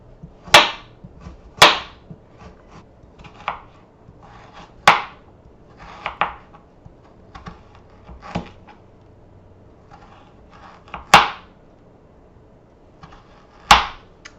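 A knife chopping through a tough carrot on a board, about a dozen sharp, close cuts at an uneven pace with some lighter taps between them, no talk.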